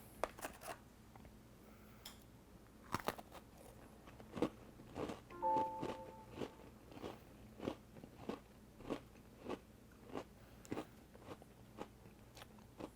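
A Pumpkin Spice Oreo cookie is bitten and chewed close up, with a run of sharp, crisp crunches repeating steadily for the whole stretch and no talking.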